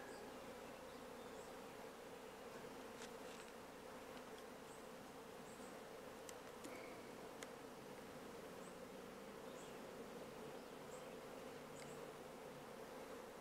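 A honeybee swarm fans at the edge of a box, producing a continuous, dense buzzing drone that holds steady throughout, close and even, with no voices.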